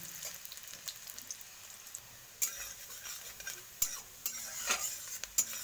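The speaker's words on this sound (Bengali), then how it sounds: "দেখো পেঁয়াজ অনেকটাই ফ্রাই হয়ে গেছে" Chopped onion fries in a large kadai wok while a spatula stirs and scrapes in uneven strokes over a soft, continuous sizzle, with a few sharper metal clinks toward the end.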